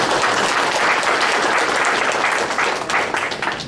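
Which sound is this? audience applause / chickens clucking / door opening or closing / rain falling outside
audience applause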